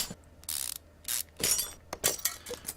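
Car parts such as a tire, brake caliper, pads and disc being removed with tools in Car Mechanic Simulator 2015, heard as several short, sharp bursts of ratcheting clicks separated by brief pauses.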